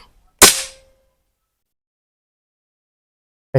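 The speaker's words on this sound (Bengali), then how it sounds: "এই যে এখন একটা ফায়ার দিয়ে দেখায়" A single sharp crack from a modified SDB sniper v2 toy gun fired close by, with a quick decay and a brief ringing tail, followed by silence and the start of another sharp sound at the very end.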